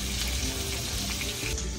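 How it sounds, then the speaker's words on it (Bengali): Pieces of mrigal fish fry in oil, a steady close sizzle throughout the short moment, with no one talking. "এখন এখানে মাছগুলো ভাজা করে নিচ্ছে"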